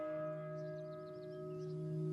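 A church bell in the Aubrac hills of the Massif Central rings with a steady, sustained tone, its long overtones hanging over faint outdoor ambience.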